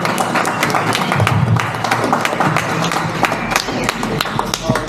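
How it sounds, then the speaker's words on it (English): Audience applause for the Cincinnati community at a Blah Blah Blah Motorcycles storytelling event, a dense run of hand claps from a crowd close by, steady and loud for several seconds. "can you please all just give yourselves a round of applause for this incredible Cincinnati community"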